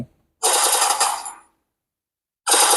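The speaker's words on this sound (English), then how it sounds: "press the fire button to shoot when the crosshair changes colors" Gunfire from the mobile shooter game Free Fire played on a mini laptop, two loud, bright bursts of rapid shots, the first lasting about a second and the second cut off at the end.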